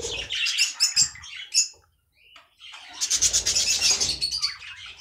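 A 30-day-old budgerigar chick gives shrill, rapid squawking chirps in short bursts, pauses briefly, then calls again in a longer, louder stretch close by.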